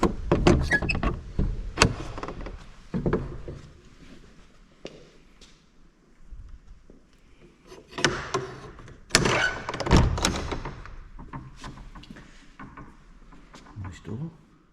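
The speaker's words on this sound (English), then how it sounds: "Door." An old village church door is opened, giving a few loud wooden knocks and creaks near at hand with short scraping and clunking bursts, separated by quieter gaps and some background movement.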